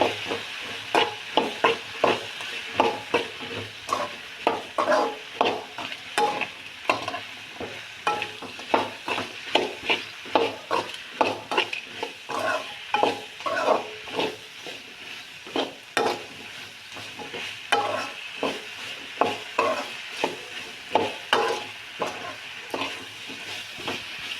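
Ridge gourd, okra and brinjal stirred and fried together in a pan, a steady sizzle under repeated scraping strokes of a spoon at an even rhythm, close and alone without voices.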